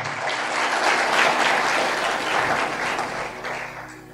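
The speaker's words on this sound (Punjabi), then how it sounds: "ਤਾਲੀ ਮਾਰੀਏ ਜ਼ੋਰ ਦੇ ਨਾਲ" A congregation at an Independence Day church sermon claps loudly together, a sustained wash of hand clapping that swells and then tapers slightly toward the end.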